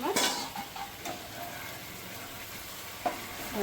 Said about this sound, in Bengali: এবার মশলাটা একটু হালকা কষে নেব।